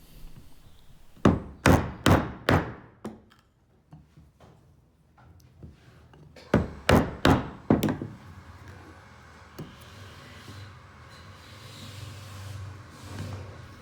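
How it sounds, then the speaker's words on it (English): Two quick bursts of sharp, solid knocks from a rubber mallet, several blows each, strike timber up close, followed by quieter shuffling and scraping handling sounds. "the rubber mallet for hitting your timber and your workpieces to adjust"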